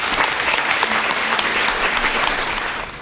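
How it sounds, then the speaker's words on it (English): A large audience applauds loudly and steadily in welcome for the Vice President of India at a Christmas message event, dense clapping holding throughout before easing slightly at the end. "huge round of applause."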